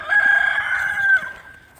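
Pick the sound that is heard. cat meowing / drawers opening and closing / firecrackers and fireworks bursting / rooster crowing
rooster crowing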